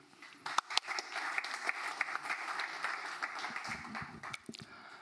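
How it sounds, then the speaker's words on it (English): Polite applause from a small conference audience, steady moderate clapping that swells and then tapers off, heard from a short distance across a quiet room. "Let's give him a round of applause."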